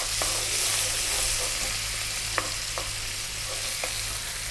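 Onion and fresh curry leaves frying in hot oil for an Indian chicken curry, a steady loud sizzle throughout with a few sharp clinks of a spoon against the pan, no voices.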